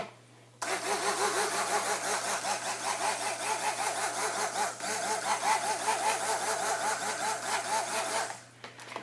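A handheld blender whirs through soap batter of lye water and oils for black raspberry vanilla soap, a steady buzzing motor that kicks on abruptly, runs evenly for about eight seconds, then cuts off.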